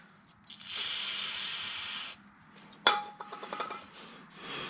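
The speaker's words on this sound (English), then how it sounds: "go back to my brake cleaner" Brake cleaner sprays onto the front disc brake parts of a 1987-1992 Toyota Corolla in one sustained hiss of about a second, then metallic clinks and light taps of handled parts follow.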